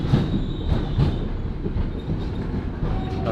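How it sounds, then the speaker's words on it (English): A freight train rolls slowly out of a station close by, with heavy rumbling wheels, metallic clanks and faint squeals repeating under a broad low roar, and no talking. "We're not supposed to get on this train."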